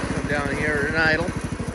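A Jacobsen Chief 1200 garden tractor engine idles up close with a steady, rapid low thumping putter, loud and constant throughout.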